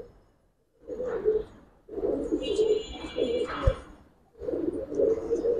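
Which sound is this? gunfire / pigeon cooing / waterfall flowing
pigeon cooing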